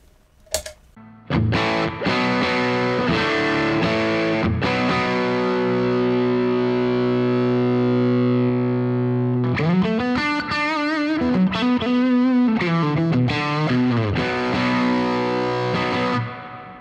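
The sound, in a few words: electric guitar amp lead channel distortion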